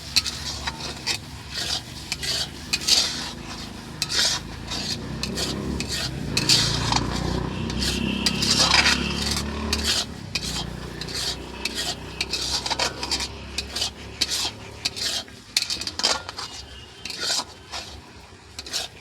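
Ground cumin, coriander and fennel being mixed for a tomato pickle, heard as repeated scraping and rubbing of a utensil against a metal bowl, with clinks and uneven strokes, close up and without speech.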